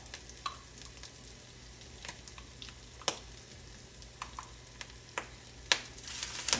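Potato pancakes sizzle steadily in a hot pan with soft crackles and scattered pops, close and fairly quiet, with no voices over them.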